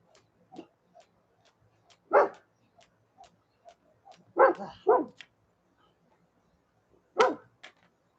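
A dog barks in short, separate bursts, a few louder woofs spaced irregularly with quieter yips between, fairly close in an otherwise quiet room.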